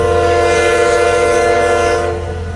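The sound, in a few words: westbound Union Pacific freight train passing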